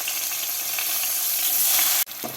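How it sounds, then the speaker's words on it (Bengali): Chopped onions dropped into hot oil with a mustard-style tempering of green chilies and nigella seeds, sizzling loudly and steadily before cutting off abruptly near the end. "এবারে প্রথমে এর মধ্যে দিয়ে দেবো কুচনো পেঁয়াজ"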